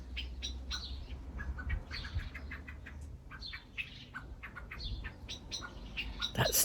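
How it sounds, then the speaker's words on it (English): Two blackbirds sing in an outdoor garden, their faint, fluting phrases and chirps repeating at a moderate distance over a low background rumble. "That's two very happy blackbirds."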